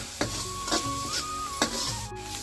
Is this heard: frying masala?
yes